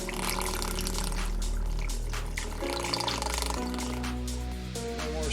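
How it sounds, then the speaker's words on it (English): Water siphons through a DIY aquarium sump overflow, a steady gurgling, trickling flow running continuously and close by, with a low hum underneath that shifts in pitch partway through. "So it keeps siphoning until it gets to the end of this right here."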